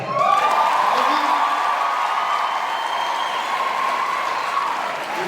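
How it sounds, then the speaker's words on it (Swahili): A crowd at a public gathering applauds a county assembly member, with loud sustained clapping and scattered cheers running evenly throughout. "Tuanze na makofi ya MCA wa area."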